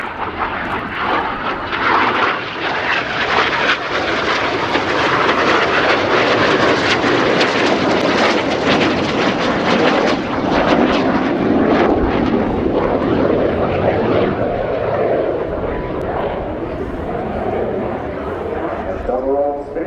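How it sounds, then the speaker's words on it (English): Royal Air Force Red Arrows jets performing double barrel rolls at an air show, a loud continuous roar of jet engines rising and sweeping across the full length, with an announcer's voice partly buried in the noise. "Here they come, barrel rolling towards each other in the double rolls."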